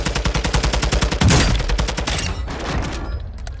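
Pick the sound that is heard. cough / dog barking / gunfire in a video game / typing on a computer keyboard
gunfire in a video game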